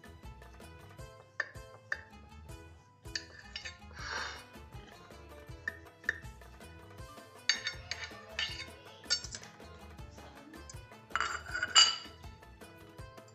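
A knife cuts through a lemon gâteau on a plate, giving scattered clinks and scrapes of metal on crockery, soft and close, spread over several seconds with quiet pauses between them.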